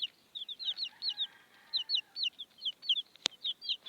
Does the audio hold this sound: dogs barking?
no